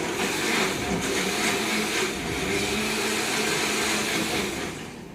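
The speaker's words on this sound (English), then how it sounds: "we then place the soaked paper into the blender." A blender pulping water-soaked paper whirs steadily at high speed, a loud continuous motor drone with a churning, watery edge that eases off near the end.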